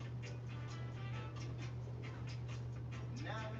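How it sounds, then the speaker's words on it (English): A dog pants close by in quick, rhythmic breaths over a steady low hum, with a brief whine near the end. "Dog is right in front of me here."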